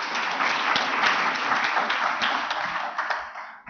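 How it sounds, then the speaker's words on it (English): A round of applause at an award ceremony for a moot court competition, given to a sponsor: sustained, even clapping from a large audience that tapers off near the end. "just a round of applause to Kaplan and Stratton"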